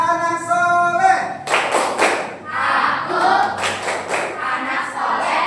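A class performs the rhythmic tepuk anak soleh clapping chant, groups of close, sharp claps in a set pattern over voices chanting together.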